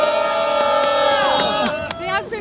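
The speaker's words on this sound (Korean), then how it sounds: "오늘 이 자리에 함께하신 분들부터 힘찬 박수와 함성으로 대학생들을 응원해 주시면 좋겠습니다" Rally crowd at a candlelight peace protest shouting and cheering in support of university students, a dense roaring wall of voices with rising, falling yells, loud and close throughout.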